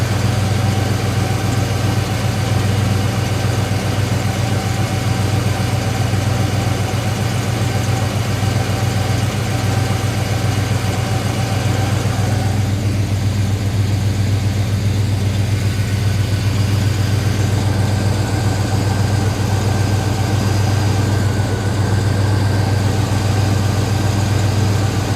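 A car engine idles steadily after a cold start, its divorced automatic choke slightly opened by the vacuum diaphragm; a close, continuous low rumble with an even hum and no voices.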